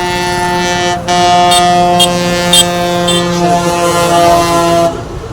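A vehicle horn blares on the old Chitradurga highway, one loud, sustained, harmonic-rich honk lasting nearly five seconds before cutting off, close and dominant with road noise beneath.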